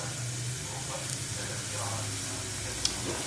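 Grated garlic sizzles in a little olive oil in a pan, a steady close hiss and crackle running throughout with no pause.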